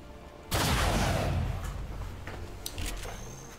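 Gunfire in the video game XCOM 2 starts with a sudden loud burst that rings and decays over a couple of seconds, followed by a few fainter clicks and knocks.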